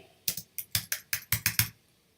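Nine or ten crisp keystrokes on a computer keyboard, close and fairly loud, tapped in a quick uneven burst before falling silent.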